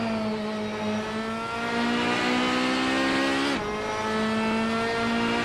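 A 1994 Ferrari 355 Challenge race car in a racing video game roars steadily at high revs, its engine note climbing through gears with a sharp shift dip near the end, loud and continuous with no talk.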